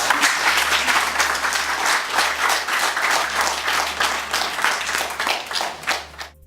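Sustained audience applause at a Run for a Cure Africa event in Cameroon, dense steady clapping from a crowd that holds for several seconds before thinning out at the end.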